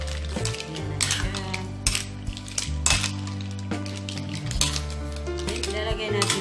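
Mussel stew being stirred in a cooking pot, with a utensil knocking and scraping against the metal in irregular clinks, close and fairly loud over a steady low hum.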